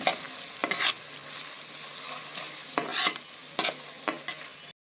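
Fried rice with soy sauce and tomato paste is stirred in a hot sizzling pan: a continuous fry hiss broken by several scraping strokes of a spatula against the metal, close by.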